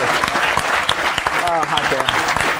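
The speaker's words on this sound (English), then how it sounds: "Let's give a round of applause for our sandwich maker, John Kittenmiller." A brief burst of applause for a sandwich maker, dense clapping mixed with voices talking and cheering throughout.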